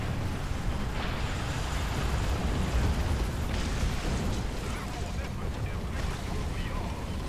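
War Thunder battle sounds around a German Jagdpanzer 38(t) Hetzer tank destroyer: a dense, continuous rumble with scattered dull booms and distant firing, steady throughout.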